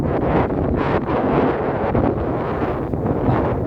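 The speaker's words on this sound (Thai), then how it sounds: "ลมแรงครับวันนี้อากาศก็หนาวเย็น" Strong wind buffets the microphone beside a large pond on a cold day, a loud, continuous roaring rush with gusty swells and no speech.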